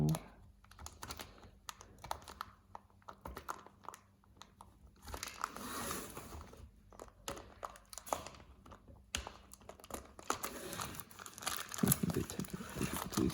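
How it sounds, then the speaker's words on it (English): Old tape being peeled off the packaging of a Plarail Thomas and Friends 60th Anniversary Metallic Thomas toy, close crinkling and tearing rustles in bursts with quiet gaps between them, and a voice speaks at times. "I'll try and peel this bit of tape off as well"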